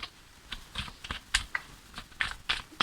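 Tarot cards being shuffled at close range, a series of soft, crisp riffling flicks and taps in an uneven rhythm, quiet and alone with no talk.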